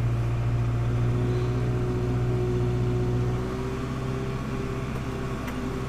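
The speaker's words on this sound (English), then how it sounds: "I'm really amazed at how quiet this tractor is." A Kubota compact tractor engine runs at a low, steady idle hum with a constant droning tone throughout, easing slightly quieter partway through and heard alone without talk.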